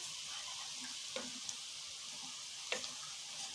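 Minced meat sizzling as it fries in ghee in a pan, a steady soft hiss broken by a few brief scraping stirs, close and fairly quiet with no talk.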